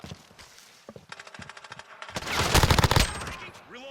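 Rapid bursts of automatic gunfire from a favored gun in a Modern Warfare 2v2 alpha match on PS4, stuttering in short volleys before building into a loud, sustained stream of shots, then cutting off.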